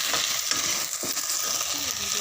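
Pieces of elephant apple fry in a pan of hot oil, giving a close, steady crackling sizzle with a few stirring scrapes, loud and continuous with no voices.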